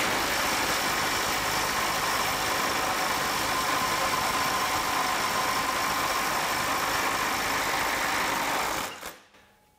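A Milwaukee 2960 impact wrench hammers continuously on a nut rated at about 650 foot-pounds, making a loud, dense buzzing rattle for around nine seconds before it stops abruptly and leaves quiet.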